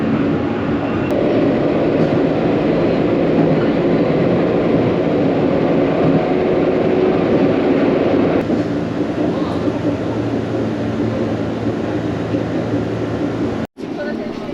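A Meitetsu train pulls into the Gamagori terminus, a steady rumbling roar of wheels and carriage with a shift in tone partway through, ending in a brief sharp drop near the close.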